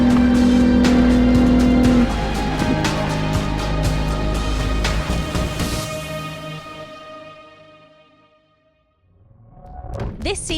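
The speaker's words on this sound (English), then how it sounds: "It's a turbocharged engine, probably more efficient, a bit less noisy." Loud, dense roar of turbocharged endurance race car engines at the 4 Hours of Barcelona running together at high revs, with rising whines, then fading away before a brief rev returns near the end.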